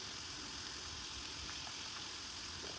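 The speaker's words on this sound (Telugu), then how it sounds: "ఇట్లా గోల్డెన్ బ్రౌన్ కలర్ వచ్చే వరకు వేయించుకోవాలి మొత్తం ముక్కలను" Ivy gourd pieces frying in oil until golden brown for a pickle, giving a steady, even sizzle that holds throughout with no voices.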